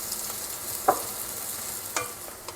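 Onions and garlic fry in a pan for an Irish shepherd's pie, a soft steady sizzle broken by a few sharp scrapes of a utensil stirring against the pan.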